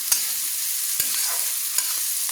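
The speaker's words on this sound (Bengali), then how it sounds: "ভালো করে নেড়ে নিচ্ছি, একটু হালকা করে ভেজে নিচ্ছি।" Chicken chowmein being stirred and lightly fried in a pan, a steady soft sizzle broken by a few sharp scraping clicks of the utensil, close and alone with no talk.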